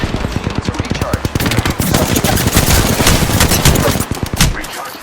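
Rapid automatic gunfire in the video game Apex Legends, loud and close: dense bursts of shots that keep going almost without a break for several seconds, then cut off abruptly.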